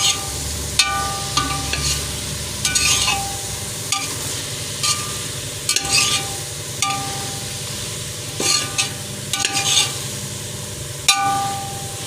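Masala for a meal maker (soya chunk) biryani sautéing in a pan, with a soft steady sizzle under repeated scraping stirs and occasional sharp clinks of a spoon against the pan.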